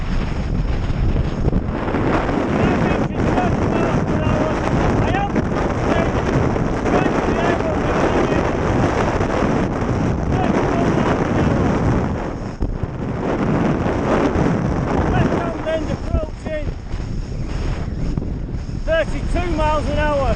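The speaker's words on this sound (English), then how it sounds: "We've got a headwind, not a good wind this, headwind" Strong headwind roars across the microphone of a bicycle moving fast in the dark, a loud continuous buffeting rush. A voice is partly heard beneath it.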